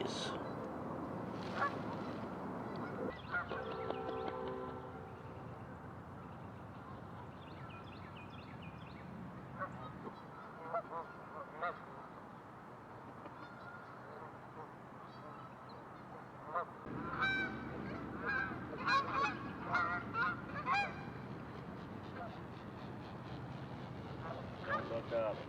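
Wild geese passing right over a ground hide in the early morning, loud repeated honking from many birds, easing off midway and then swelling again as more arrive overhead.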